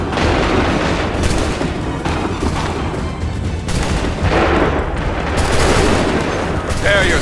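Massed musket volleys boom and crackle in the video game Assassin's Creed 3, a loud, dense wash of gunfire and battle noise that barely lets up, with shouted voices mixed into the din.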